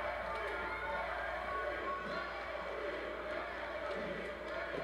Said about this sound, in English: The crowd loving this.